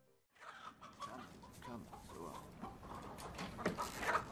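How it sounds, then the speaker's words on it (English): Chickens cluck aboard a sailing warship in the film Master and Commander, several birds calling in irregular bursts amid busy shipboard background noise, growing louder and more excited toward the end. "Oh man, they have chicken on board?"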